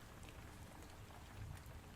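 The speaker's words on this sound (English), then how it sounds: "soothing rain sounds and hitting clay jars with distinct thunder" Soothing rain falling steadily on surfaces, a faint, dense hiss of drops with a low rumble underneath, continuous throughout.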